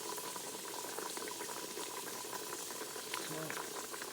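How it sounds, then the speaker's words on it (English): Pressure cooker on level 4 with cube steak in gravy inside, bubbling and boiling as a steady, faint hiss with soft popping, heard alone. "as you can see on level 4, it boils"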